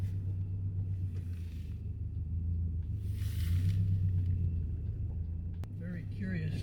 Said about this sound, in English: Very curious to hear how this camera does with the sound of my car and me talking.